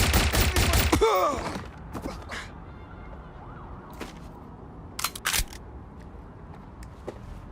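A burst of rapid gunfire in the video game Watch Dogs Legion opens loud and dense, then breaks off into quieter scattered shots and sharp cracks over a low game ambience.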